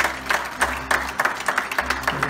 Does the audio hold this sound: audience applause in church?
yes